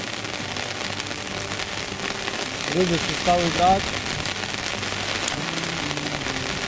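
Heavy autumn rain pours at a riverside feeder fishing spot, a loud, constant patter drumming on nearby surfaces, with someone speaking briefly over it.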